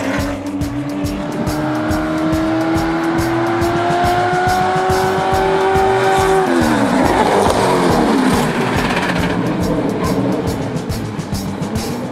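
A Stock Car race car brakes hard beside a street Corolla in a braking test, engine note falling and tires squealing loudly as it slows, with a Portuguese-speaking voice talking over the noise.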